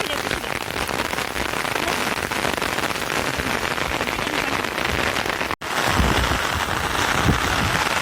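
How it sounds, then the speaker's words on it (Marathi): Heavy rain pours with gusting wind in a dense, constant roar, loud and close, with a brief dropout partway through and a faint voice beneath. "पाऊस आणि वारा भरपूर"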